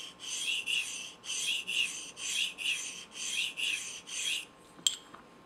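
A knife blade drawn across a Spyderco Double Stuff ceramic sharpening stone to set a micro bevel: steady rhythmic rasping strokes, about nine back-and-forth passes in a regular pattern, close and clear, followed by a brief sharp tick, no voices.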